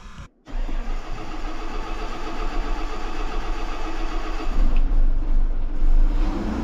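A vehicle engine cranks and starts after a fuel filter change, then settles into a loud, steady idle close by with a slight rise in revs.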